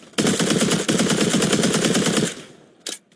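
A loud, close burst of rapid automatic gunfire in the video game Combat Arena lasts about two seconds, then cuts off, followed by a single short sharp shot.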